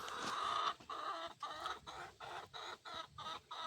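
Chickens cluck in quick, rhythmic bursts among cattle, close and clear, one call after another with short gaps between.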